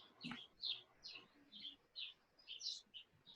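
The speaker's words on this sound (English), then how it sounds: "I can hear birds tweeting." Birds tweet in a steady series of short, high chirps spaced about every half second, clear but fairly soft, heard indoors with no talking over them.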